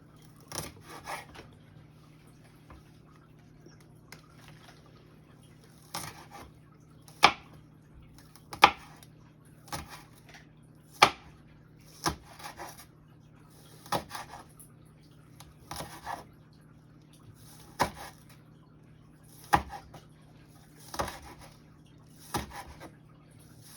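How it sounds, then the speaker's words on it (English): Knife slicing a green onion on a cutting board in slow, fairly regular single strokes, each a crisp thunk, over a steady low background hum. "Now we're chopping up 1 green onion sliced."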